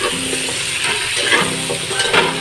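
Squash pieces sautéing in a pan with spices for a vegetable-meat ginataan, giving a steady close sizzle with light stirring and scraping clatter throughout, no talking.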